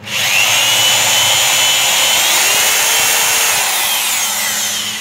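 A used Japanese power drill spins in reverse with a loud, steady, close whine that holds for several seconds and eases slightly near the end, with no voices over it.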